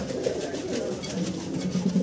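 Pigeons coo softly and continuously in a low, throaty murmur, close by in a fancy pigeon loft, with no speech.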